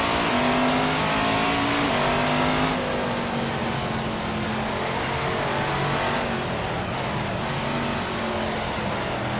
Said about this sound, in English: You can even hear the wheels skidding.